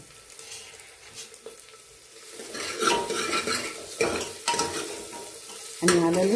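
Chopped onion and curry leaves sautéing in a pan for moong and masoor dal: a close, continuous sizzle with scraping stirs of a utensil against the pan that grow louder and busier toward the end.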